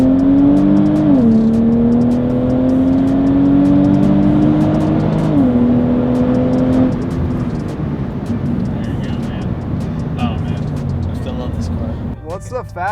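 A 1000HP Jeep Trackhawk engine drones loud and close, its pitch stepping up in surges like gear changes, with a steady heavy roar throughout; speech can be heard alongside.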